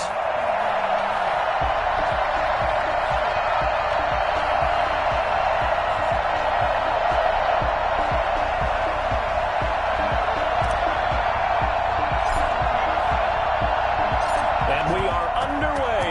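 Stadium crowd noise at NRG Stadium in Houston before a Los Angeles Rams versus Houston Texans football game, a steady, dense roar and cheer heard under a commentator's voice throughout.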